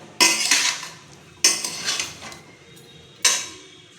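Plantain stem poriyal chopped lightly and mixed in a pan, giving three sharp metallic scraping clatters of a spatula against the pan, each trailing off into softer stirring, close and clear with no talk.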